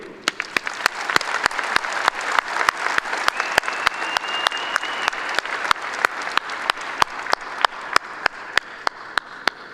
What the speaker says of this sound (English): let's give them a huge round of applause for their efforts in helping build the foundation of what our university has become today